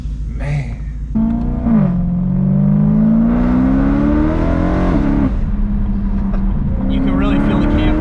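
Dinan stroker BMW M3 E92 engine pulling hard at full throttle, a loud rising drone that climbs steadily through the revs, drops briefly at a shift and climbs again, heard from inside the car.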